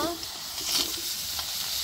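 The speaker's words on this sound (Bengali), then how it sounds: "কড়াই গরম হয়েছে, এখন লাউ আমি দিয়ে দিব" Chopped bottle gourd hits a hot wok and sets off a soft, steady sizzle and hiss that fades slightly over a couple of seconds, fairly close and quiet.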